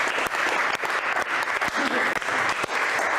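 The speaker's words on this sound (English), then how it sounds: "give yourselves a round of applause" A live audience bursts into energetic applause, a loud, dense roar of clapping with scattered sharp claps punctuating it for the whole stretch, with no talking over it.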